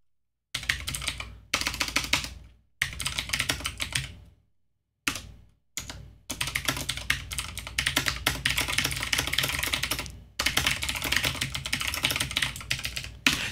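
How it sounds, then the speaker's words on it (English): Fast, clattering typing on a loud Razer computer keyboard, close up, in several bursts separated by short pauses. "Razer keyboard, right? With all the colored lights, and it's loud as hell."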